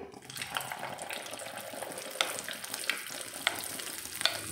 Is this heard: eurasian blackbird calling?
no